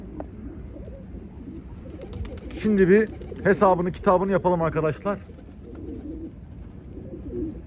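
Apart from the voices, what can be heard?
birds calling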